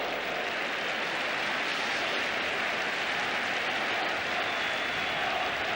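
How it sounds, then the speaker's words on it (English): Football stadium crowd roaring and cheering during a match, a broad, steady mass of voices spread out at a distance with no single voice standing out. "And the crowd fully roused now."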